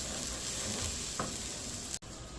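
Garlic fries in a pot of pulao while it is stirred, giving a steady close sizzle with a brief scraping stir partway through and a sudden short break near the end, with no voices.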